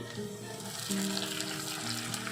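Chopped tomatoes sizzle steadily in hot coconut oil in a pan for a Kerala-style fish curry, a close, continuous frying hiss with a faint hum beneath.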